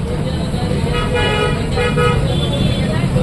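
A vehicle horn honks in a sustained blast over rumbling engine and road noise, with voices in the background.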